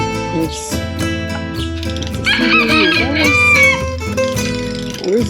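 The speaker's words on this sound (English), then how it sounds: "a rooster," A rooster crows among chickens near a breakfast stop with an aviary, set against a busy, layered background of other sounds throughout.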